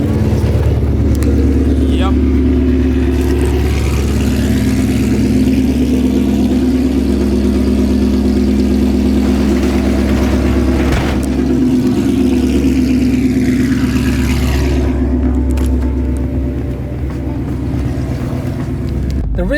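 A 2018 Ford Mustang in track mode, heard from outside the car, runs with a loud, steady engine drone that holds for the whole stretch, with a brief spoken word in the middle.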